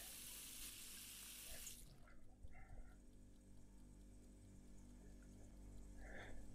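Water from a kitchen tap pours steadily into a pot for about two seconds, a one-liter measure for cooking, then cuts off, leaving faint clinks and quiet room noise.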